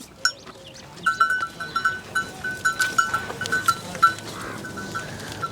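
Goats of Sirohi and Ajmeri breeds bleat on an Indian goat farm, with a steady run of nearby calls, some overlapping, against faint background farm noise.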